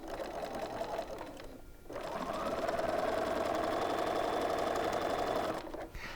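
A sewing machine whirs steadily while chain piecing flying geese units for a Fifty-four Forty or Fight quilt block, pausing briefly once before running on in a fast, even hum and then stopping.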